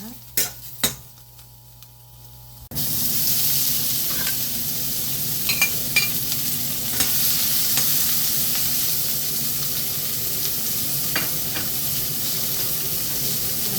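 Mushrooms pan-fry until golden for japchae, a continuous loud sizzle with occasional utensil clinks against the pan, starting abruptly after a quieter moment of a few knocks.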